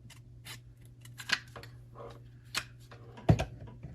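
Scissors snip through paper collage fodder at a craft table, a handful of sharp, quiet cuts spaced irregularly, with a louder snip near the end and no talk.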